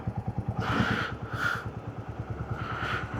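A motorcycle idles just after a cold start on a rainy mountain road trip, its engine thumping in a steady, even low pulse, close and moderately loud, with a few brief higher bursts over the top.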